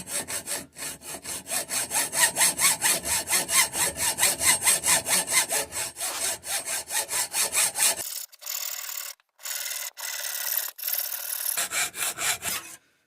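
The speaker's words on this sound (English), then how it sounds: "I'm just going to use my 32 tooth hacksaw blade." Rhythmic back-and-forth strokes of a 32-tooth hacksaw blade cutting a flat plate for a model locomotive, close and steady, then slower broken strokes with pauses near the end.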